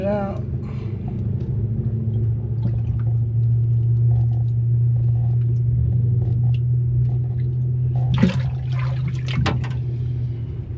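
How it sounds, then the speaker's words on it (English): Water drains from the tank of a 1989 Starcraft boat with an old blue Mercury 135hp, a steady low gurgling rumble running continuously with a few louder splashes and knocks near the end, someone talking now and then. "Let that drain out, and then I'll see if we got any more water in the tank."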